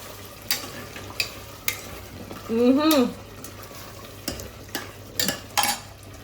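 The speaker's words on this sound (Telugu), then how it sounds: "మసాలా వేసుకుందాం గరం మసాలా ఒక్కసారి అయితే కలిపేసుకుందాము" A spoon stirs garam masala into a mutton and spinach curry in a pot, giving soft scraping strokes and clinks against the pan with a faint sizzle underneath, as someone talks over it.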